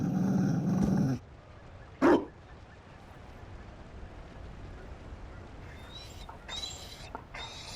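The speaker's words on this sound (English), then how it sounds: "You found a dog." A Mabari war dog in a video game gives a loud, close growling bark at the start and one more sharp bark a moment later. Quieter game ambience and faint clinks fill the rest.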